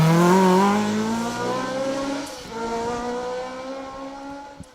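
A historic Ford Escort rally car on a Manx Rally stage, engine note rising and falling steadily as it drives past at moderate distance, loud at first and then easing, with no voices.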